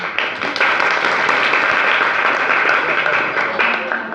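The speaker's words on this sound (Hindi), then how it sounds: "शाबाश, तालियां इसके लिए।" An audience at an education awareness event claps loudly and steadily, a close, continuous burst of applause lasting a few seconds.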